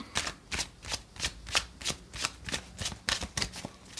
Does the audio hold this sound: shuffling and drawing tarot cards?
yes